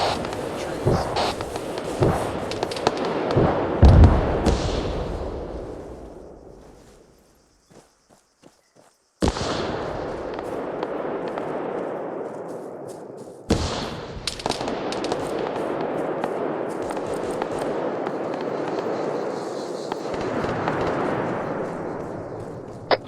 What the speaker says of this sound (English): we're also taking contact fire from the east